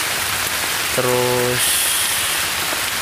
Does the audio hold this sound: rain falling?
yes